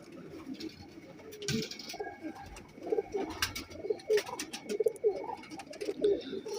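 Flying pigeons coo in a soft, repeated, throaty rhythm, fairly faint and somewhat distant, over low background noise with an occasional sharp clatter.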